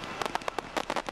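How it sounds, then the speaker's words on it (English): A firework candle, lit from the top, fires stars into the air one after another as the delay burns down, giving a rapid run of sharp popping bursts close by with crackling between them. "light it from the top, delay burns, hits the black powder, shoots a star up in the air"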